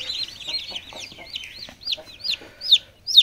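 Poultry farm chickens and chicks, layer and Fayoumi types, peeping in a rapid stream of high chirps with a few louder calls near the end, close by and with no talking.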